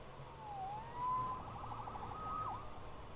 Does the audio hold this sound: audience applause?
no